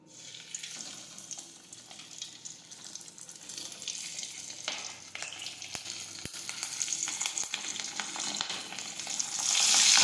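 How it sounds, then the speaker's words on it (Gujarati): Stuffed green chilies frying in hot oil for a Gujarati sambharo, a continuous close bubbling sizzle that grows louder toward the end, with a few sharp ticks of stirring and no voices. "હવે આપણે તેમાં મરચાં તળી લેશું"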